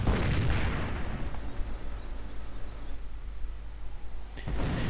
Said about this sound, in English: Cromwell taking some shots at the Grenadiers, not having much luck though